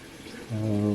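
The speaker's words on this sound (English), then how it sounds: "Water is continuously draining out." Water drains steadily out of a sink after drain cleaner has been used, giving a short, soft gurgle that grows into a low, running swirl halfway through the moment.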